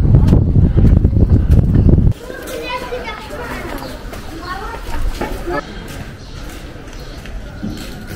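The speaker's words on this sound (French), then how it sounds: "dans ces petites ruelles, il y a bien du vent aussi" Wind gusts through narrow alleyways in a Moroccan town. A heavy low rumble of wind on the microphone fades after the first couple of seconds, and children can be heard playing and talking in the background.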